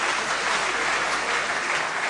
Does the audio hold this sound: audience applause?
yes